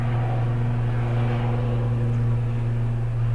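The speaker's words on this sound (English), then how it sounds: "That's a helicopter flying pretty close." Steady, droning engine roar with a deep low hum, like a helicopter passing close, constant in loudness throughout.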